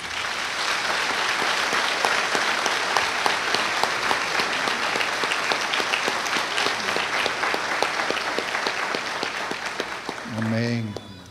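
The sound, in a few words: church congregation applause welcoming guests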